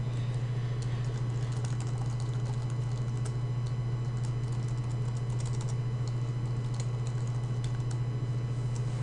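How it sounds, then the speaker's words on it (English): Rapid, steady typing on a computer keyboard, close and continuous with dense clicks over a constant low hum, no talking. "my typing skills are terrible"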